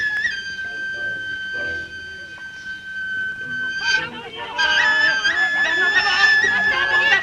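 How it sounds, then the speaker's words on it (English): A shrill, sustained whistle sound effect from a film soundtrack, steady and piercing, running under voices and other film sounds that grow louder toward the end. "this really bizarre and annoying whistle sound effect that just makes you want to claw out your eardrums"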